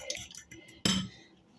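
A fork beats a thin batter of mayonnaise and flour in a bowl for fried cauliflower. Light, quick metallic clinks are followed by one sharper clink against the bowl, close and fairly quiet.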